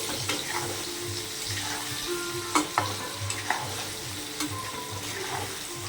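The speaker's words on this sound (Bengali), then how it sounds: "হলুদ গুঁড়ো, একটু নেড়ে দিব হালকাভাবে।" Potatoes frying in a pan with turmeric powder, stirred with a utensil: a soft steady sizzle with scattered scraping clinks and taps from the spoon, heard close and fairly quiet.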